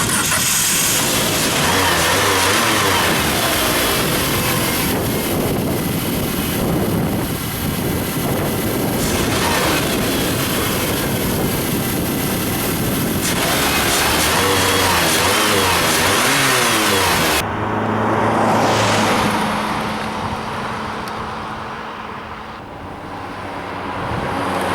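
The engine of a 2005 Neon car runs after its knock sensor and overhead camshaft sensor were replaced. It holds a steady, close hum with a few swells in revs, then eases off near the end.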